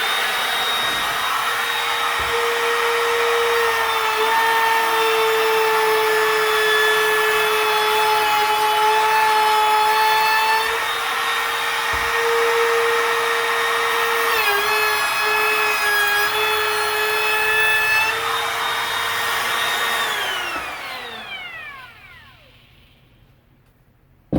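A Makita brushless cordless router cuts hardwood at full depth, a loud high-pitched whine with a strained, grinding edge that dips under load, then spins down and falls silent at the end.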